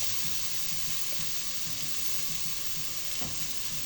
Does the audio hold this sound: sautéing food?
yes